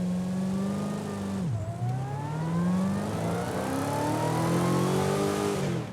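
A Hennessey Exorcist ZL1 1LE with a 6.2 litre LS engine in Forza Horizon 5 revs hard and accelerates through the gears, a loud close engine roar rising in pitch, dipping sharply at a shift, then climbing again.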